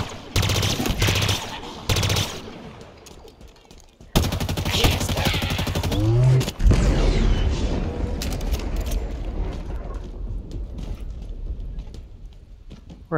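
Gunfire aimed at a sniper in the shooter game Halo Infinite: loud, rapid automatic bursts break off and resume, then give way to a lower, rumbling stretch of fainter battle noise.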